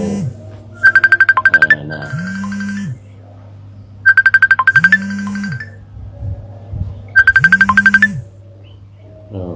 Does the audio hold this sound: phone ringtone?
yes